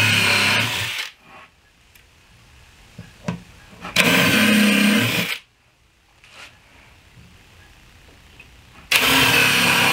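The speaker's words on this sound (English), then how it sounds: "drill some pilot holes from underneath, and screw it into place with 1¼ inch screws" A power drill drives screws into the wood of a DIY kitchen island, with loud whirring bursts of about a second each, separated by quiet gaps holding faint clicks and handling taps.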